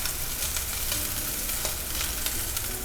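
Rack of lamb sizzling steadily in a hot cast iron skillet, a dense continuous frying hiss with small pops throughout, close and fairly loud with no talking.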